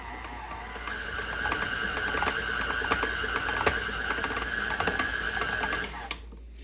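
An electric mixer beats butter, sugar and flour into a gluten-free dough, a steady mechanical whir with rhythmic ticking and rattling that runs continuously at close range before stopping abruptly.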